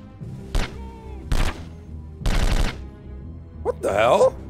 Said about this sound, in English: I was shooting and he did only just like one shot and suddenly like a burst round.